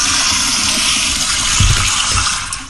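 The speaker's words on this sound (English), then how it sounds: "Double flusher," A toilet flushes close by, a loud sustained rush of gushing water that holds steady and then begins to fade, with no voices.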